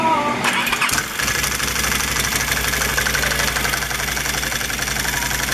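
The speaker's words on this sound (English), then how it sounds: "when a clutch gets old, it rattles like a son of a bitch" A Can-Am ATV engine running steadily after starting, with the worn CVT clutch giving a continuous mechanical rattle and clatter close by, loud and unbroken.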